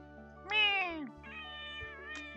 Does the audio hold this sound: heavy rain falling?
no